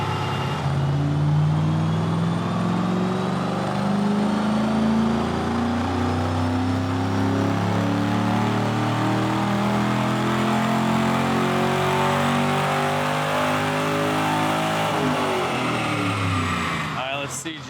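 A Chevrolet Camaro SS V8 on a dyno winds up in one long, loud pull, pitch climbing steadily for about fifteen seconds before dropping off sharply as the throttle closes.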